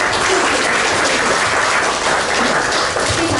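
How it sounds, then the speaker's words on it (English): Dense, sustained applause from a seated audience after a speech at a Washington State forum celebrating the 45th anniversary of US–China diplomatic relations; it holds steady and full throughout, with no talking over it. "Let's give him a big round of applause."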